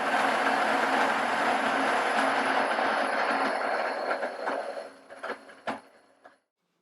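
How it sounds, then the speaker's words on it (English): A hand-cranked grain mill coarsely grinds malted barley, giving a steady loud gritty grinding rumble that slows into a few scattered cracks and clicks before stopping abruptly. "I'm going to grind this coarsely. Now I'm going to use a grain mill"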